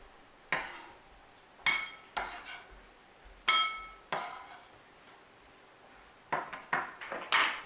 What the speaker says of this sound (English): all we're going to do is get the onions and the parsley in a bowl